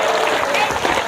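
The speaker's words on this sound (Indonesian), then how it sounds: "Tepuk tangan." A short burst of audience applause, brisk clapping that fills the room and is mixed with voices.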